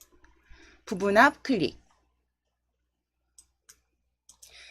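A few soft, isolated computer mouse clicks sound during Excel spreadsheet work, well spaced and faint, coming after a brief stretch of someone talking.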